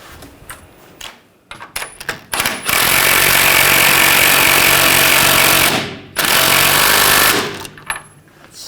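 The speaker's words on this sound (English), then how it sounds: "Now we'll tighten up the ball joint" Power tool, likely an impact wrench, tightening the front lower ball joint nut on a 2014-2018 GMC Sierra 1500 in a garage, heard as a few short bursts and then one long loud sustained rattling run, a brief gap, and another run.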